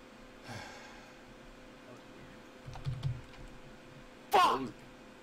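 Scattered keystrokes clack on a computer keyboard during a Tekkit Lite game session, mostly faint, followed by a loud breathy snort or sigh near the end.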